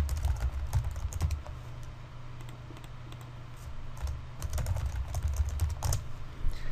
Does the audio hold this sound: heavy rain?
no